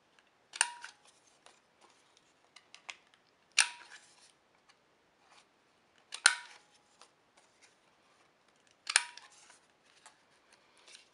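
A small cutting tool rounds the corners of rectangles of patterned paper with four crisp, sharp snips spaced a few seconds apart, each followed by faint paper rustling in a quiet room.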